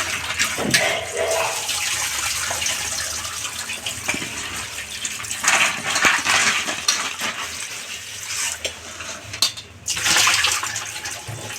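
Tap water gushes steadily while fish and crab are rinsed for curry, with splashing and occasional clinks of pots and dishes nearby throughout.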